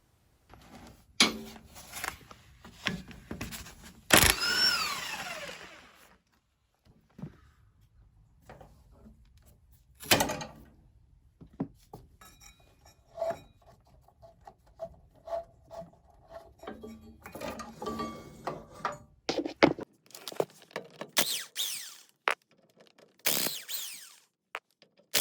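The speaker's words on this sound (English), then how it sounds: "So we'll just pull the pulley off to begin with." Sharp metallic clicks, taps and scraping as a gear puller is fitted and worked to draw a stuck pulley off a ride-on mower gearbox, intermittent close knocks separated by quiet pauses, no talking.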